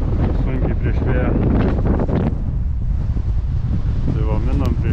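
Strong wind buffets the microphone on a sailboat beating against the wind. The roar is constant and gusty, and voices are heard talking over it.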